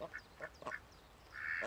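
Ducks quacking near water in the countryside, several short nasal calls spaced across the moment and a longer call at the end, moderately close with faint background ambience.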